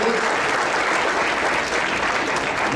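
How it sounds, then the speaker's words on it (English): An audience at a 2014 senior volunteer recognition ceremony applauds the Garden Grove Police Department, a dense, steady clapping that stays loud and even for its whole length, with no voices over it. "Let's give again a round of applause to our Garden Grove Police Department."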